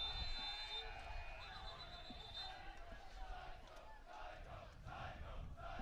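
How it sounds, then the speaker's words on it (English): Buzzer tones and whistles close the first overtime period of a girls' varsity high school lacrosse game, sounding early over a loud, cheering crowd that keeps roaring and shouting afterward. "So whistles blown on the field and the buzzer sounding."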